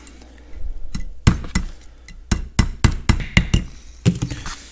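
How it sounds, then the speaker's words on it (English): A series of sharp metallic hammer taps bending lock wire ends to 90 degrees on a Caterpillar D2 diesel engine, irregularly spaced, some close together, in an otherwise quiet space. "we'll just take a hammer and just bend each one of these ends over"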